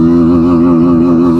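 A 160cc sports motorcycle engine held in first gear: a loud, steady buzzing drone, close and continuous, with a slight wavering in pitch.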